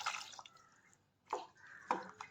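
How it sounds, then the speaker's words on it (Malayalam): Quiet splashes of water falling into a cooking pot of ground-paste breadfruit curry, a few brief pours separated by short pauses, close by. "കുറച്ചുകൂടി വെള്ളം ചേർത്ത് കൊടുക്കാം"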